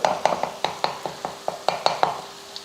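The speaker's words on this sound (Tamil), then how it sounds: "முட்டை போட்டு நல்லா இந்த மாதிரி கலந்தாச்சு பாருங்கள்" A spoon stirs three raw eggs and a pinch of salt into sautéed beetroot in a pan, with a rapid series of sharp, close clinks and scrapes against the metal over a soft sizzle.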